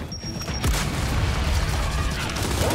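A grenade goes off in the Gears 5 Hivebusters DLC, a sudden loud boom rolling into a dense, sustained rumble that fills the rest of the moment, with no voices.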